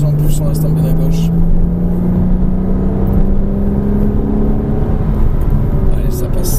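A Porsche Cayman S accelerates on a race track during a driving course, its engine a steady loud drone with a slowly rising pitch throughout. An instructor's voice is heard talking over the engine.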